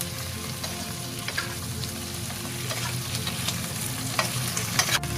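Pieces of rice-field eel are stir-fried in a wok with chili, producing a loud, steady sizzle with scraping stir strokes and scattered crackles, all without talk.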